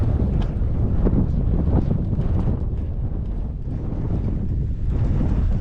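Strong wind buffets the microphone on an open Devon moor, a steady loud rumbling roar with gusty surges throughout and no voices.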